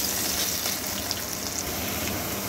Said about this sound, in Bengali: এর মধ্যেই আলুগুলোকে দিয়ে একটু ভেজে নেব